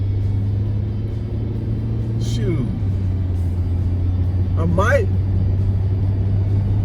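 A car drives past outdoors over a steady low engine hum, its sound swelling and fading within a few seconds while someone talks nearby.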